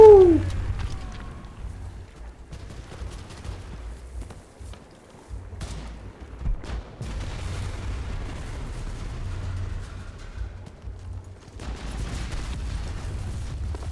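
Bursts of gunfire and heavy artillery booms in the video game Enlisted, scattered shots over a low rumbling drone, fairly quiet and continuous.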